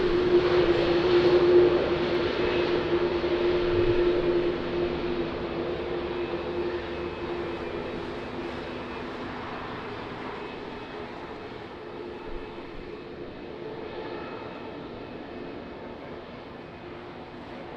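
A Boeing 787-9 airliner at Lisbon Airport in wind and rain, its steady jet engine roar loud at first and slowly fading over nearly eighteen seconds, with no voices.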